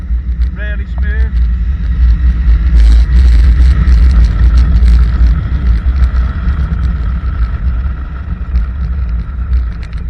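A Yamaha Tenere 700 World Rally motorcycle engine rumbling loudly and continuously while riding, with heavy wind buffeting the microphone and a brief chirping sound early on.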